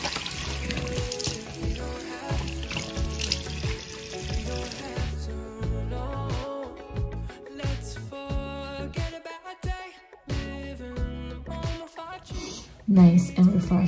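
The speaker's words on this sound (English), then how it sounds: "I always wash my face with cold water, especially in the morning" Tap water runs into a sink during a morning face wash with cold water, a steady splashing flow with scattered clinks, beneath music or background sound throughout.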